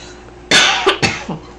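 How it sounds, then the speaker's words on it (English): A few harsh, close coughs in quick succession, one strong burst followed by two or three smaller ones, with no talking. "if you hear us coughing, it's the post-nasal or drip"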